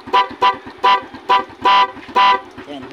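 A dual horn with a pro music module, installed on a Smash motorcycle, sounds six loud, close honks in a quick rhythmic sequence. The short tones vary slightly in pitch and the last two are held a little longer.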